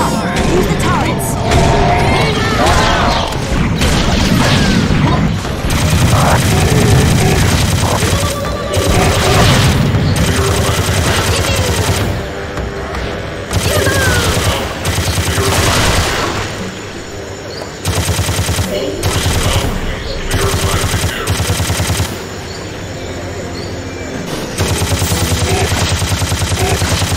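Turret gunfire in Serious Sam 2, dense and continuous at close range, loud sustained bursts of automatic fire with booming impacts layered throughout, with occasional brief voice fragments.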